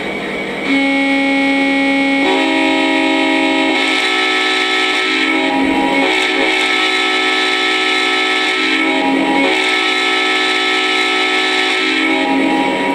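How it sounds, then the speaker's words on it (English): A loud, sustained horn from a Lionel Legacy SD70ACE model locomotive blares continuously, holding a steady multi-tone chord with slight swells in intensity, under steady locomotive rumble. "Let's hear some sounds. Let's start with the whistle."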